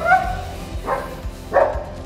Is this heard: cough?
no